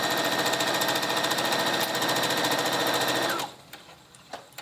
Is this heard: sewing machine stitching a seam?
yes